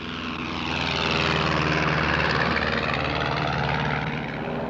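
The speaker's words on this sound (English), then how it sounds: "I was in an amphibian plane heading back toward the city" A propeller-driven amphibian plane in flight, from inside the aircraft, produces a constant loud droning engine roar with a steady low hum and broad wash of noise that rises a little and holds evenly throughout.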